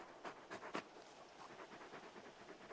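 A large dog pants in rapid, rhythmic breaths in the video game Final Fantasy XVI, quiet and close, with no talk.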